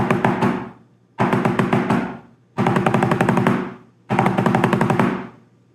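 Historic rudimental drumming exercise with quintuplet skeletons leading into 11-stroke rolls, heard as four tight, rapid bursts of drum strokes in a steady repeating pattern, each burst ending in a brief pause, close and unaccompanied.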